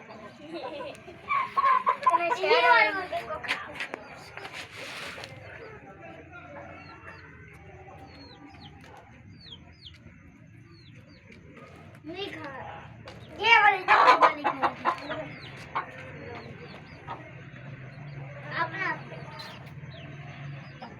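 Chickens and roosters cluck in short bursts, with a louder cluster early on and another in the middle, over a low background hum and occasional voices nearby.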